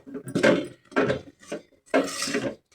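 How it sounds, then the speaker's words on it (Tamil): A spoon scrapes through a thick coconut burfi mixture with semolina in a pan, making four distinct close, rhythmic stirring strokes with short quiet gaps between them. "இது நல்லா பதமாக வர்ற அளவுக்கு நம்ம நல்லா கிண்டணும்"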